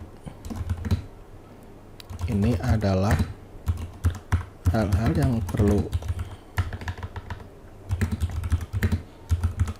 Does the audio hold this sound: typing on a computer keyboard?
yes